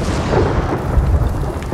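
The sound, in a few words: heavenly strike thunder attack in Ghost of Tsushima video game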